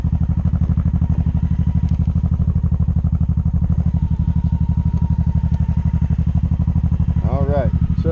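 A motorcycle engine idles close by with a steady, rapid thumping beat, ending with a brief voice over the running engine.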